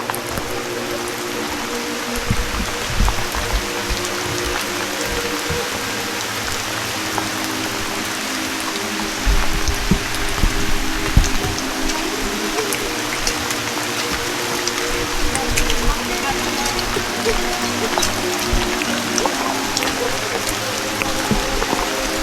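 Steady rain falls on a misty mountain peak, a dense continuous hiss of drops on surfaces throughout, with no voices.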